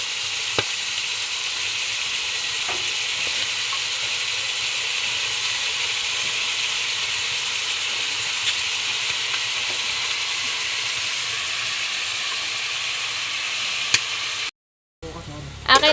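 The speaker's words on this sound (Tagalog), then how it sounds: "Ilalagay naman po ni John Paul ngayon na yung mga gulay." Vegetables go into a hot frying pan, producing a loud, steady sizzle and hiss that runs unbroken, close up, with a brief cut near the end.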